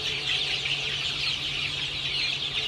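Many three-week-old chicks cluck and peep together in a steady, busy chorus, like a crowded coop heard up close.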